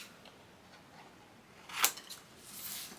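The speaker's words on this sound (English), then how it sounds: "you are going to cut across where the score lines cross" Scissors cutting across scored paper for a small handmade craft mini album, heard as a single faint snip near the middle of an otherwise quiet moment, with no talking.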